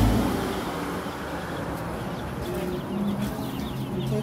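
Chicks in a pet shop peep softly and repeatedly over a busy indoor background hum, faint and somewhat masked throughout.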